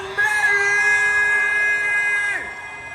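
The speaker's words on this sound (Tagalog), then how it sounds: "palakpakan natin na may kasamang sigawan" A crowd cheers and shouts at the Metro Manila Film Festival 2025 grand parade. The noise is loud and sustained, with a steady high tonal sound running over it that drops away near the end.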